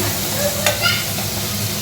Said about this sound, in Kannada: ಎಲ್ಲ ಚೆನ್ನಾಗಿ ಫ್ರೈ ಮಾಡ್ಕೋಬೇಕು